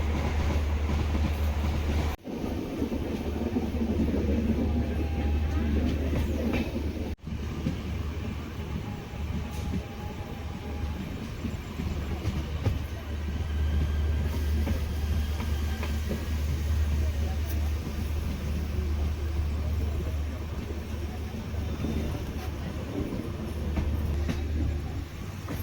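The Tiruvarur to Chennai Egmore Mannai Express, train 16180, rumbles steadily close by through a station in India, a low continuous roar of rolling wheels and rail clatter, with faint voices in the background.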